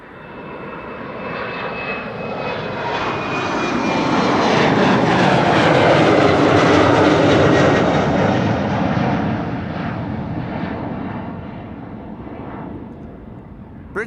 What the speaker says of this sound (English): British Airways, Embraer 190. Those are always on their way to London City.